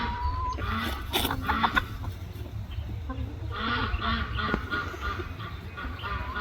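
On a farm by a duck pond, a rooster named Rufio calls his hens over to a treat with soft repeated clucks amid busy poultry chatter, quacking and outdoor noise.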